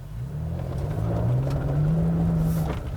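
2020 Toyota Tacoma TRD Pro truck in 2-wheel drive with traction control off, driving across a big open gravel area, a steady low engine rumble that rises slightly as it revs.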